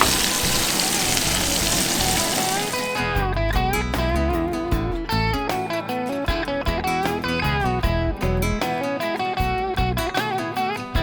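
Turkey frying in mayonnaise in an old frying pan gives a loud, steady sizzle for about three seconds, then music takes over with the frying sound buried beneath it.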